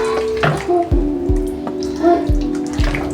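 About 300 ml of cooking oil pours steadily from a container, making a continuous close liquid glug and splash with small bubbling pops throughout, no one speaking.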